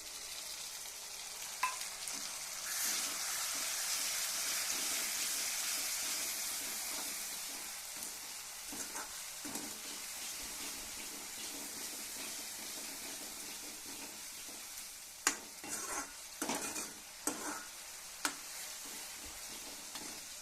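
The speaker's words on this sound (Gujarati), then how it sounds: "હવે આ ટમેટાનું આપણે ખમણેલું ટમેટું નાખવાનું છે" Grated tomato hits a hot pan with a steady, fairly quiet sizzle and hiss, joined later by a few sharp scraping clicks from stirring.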